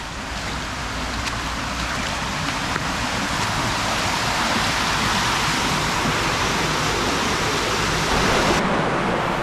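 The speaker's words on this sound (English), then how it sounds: "So much water coming in." Shire Brook in a Sheffield valley pours steadily into a culvert, a loud, unbroken broadband rush of water holding constant close to the microphone with no voices.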